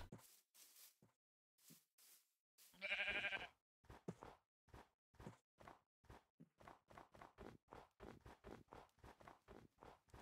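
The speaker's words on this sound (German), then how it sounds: "Hallo Schaf." Sheep bleating in the Minecraft video game, a short burst of bleats standing out between long regular runs of blocky in-game footsteps, with no talk.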